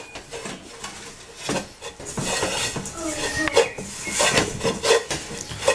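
Garlic stirred in a cooking pot for melokhia, with a wooden spoon rubbing and scraping against the pot in irregular strokes and occasional clinks, fairly close and moderately quiet.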